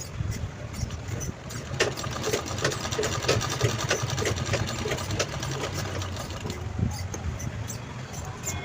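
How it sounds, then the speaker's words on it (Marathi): A sewing machine stitches a small cloth mobile phone pouch, its needle running in a steady, continuous whir that stays close and fairly loud throughout, with no talking over it. "तर आता हे आपण शिवून घेऊया"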